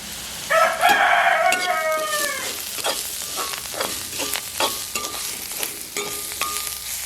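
Cumin seeds and onions fry in oil in a Jaffna-style home kitchen, with a soft steady sizzle under repeated spoon scrapes and clinks against the pan, and a brief rooster crow in the background early on.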